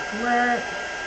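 A hair dryer blows on a painted tag in a short, steady whirring burst with a faint tonal whine, close by and alone.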